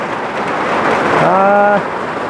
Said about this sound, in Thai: ฝนตกแล้วพี่น้องเด้อ